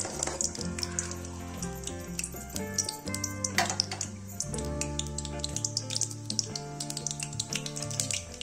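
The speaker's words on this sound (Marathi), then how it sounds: "मोहरी आपली चांगल्या प्रकारे फुटलेली आहे" Mustard seeds crackle and splutter in hot oil in a kadhai with cumin, a dense, continuous sizzle of close popping, heard alone with no voices.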